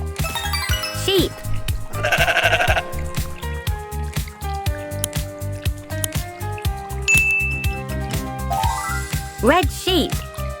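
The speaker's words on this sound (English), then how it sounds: "Sheep" A cartoon sheep bleats a few times among bright, bouncy children's music with a rhythmic beat, chimes and bell-like tones in a preschool colors-and-animals learning piece.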